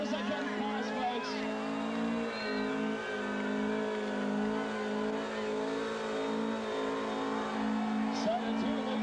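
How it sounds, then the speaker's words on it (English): A four-cylinder 2-litre car does burnout donuts at a club burnout event, its engine droning steadily with faint tire squeal while a commentator talks over it throughout. "Good control, skidding from the four-banger."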